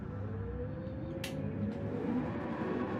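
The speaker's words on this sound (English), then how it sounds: "Revs are up then." Race car engines idle and rev steadily together on the starting grid at Suzuka in a Gran Turismo–style racing game, a dense continuous drone with a brief sharp hiss partway through.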